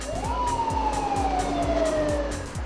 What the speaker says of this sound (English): the lights and sirens are working double time